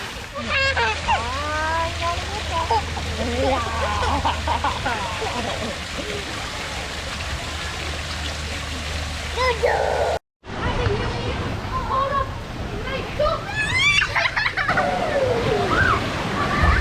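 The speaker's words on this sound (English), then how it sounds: "Kids are loving this water park." Busy outdoor water play with splashing and running water, children's voices and shouts overlapping throughout, with a brief dropout midway.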